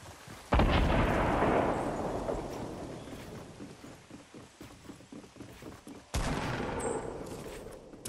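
Gunfire in the Fortnite video game: two sudden heavy bursts of shots with rattling, echoing tails that fade between them, sounding moderately distant.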